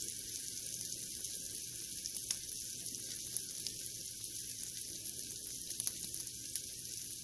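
Hot grease sizzling steadily in a pan as raw flour goes in for a sausage gravy roux, a continuous close hiss and crackle with no talking.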